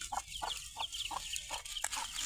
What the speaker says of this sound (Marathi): हे असे छान कोंबडीचे पिल्ल निघले